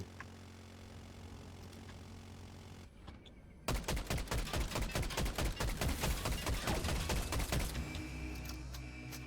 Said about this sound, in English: These guys are shooting up there.